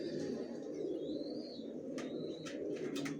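Quiet, distant cooing from racing pigeons blends into a steady low hum, with a few thin chirps and brief higher calls rising over it.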